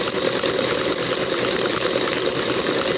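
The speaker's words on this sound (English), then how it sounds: "Poor old KitchenAid, we got it Goodwill. It's had a workout over its long life with us." An old secondhand KitchenAid stand mixer runs steadily, beating divinity candy, with a constant loud motor whir and churning drone throughout and no pauses.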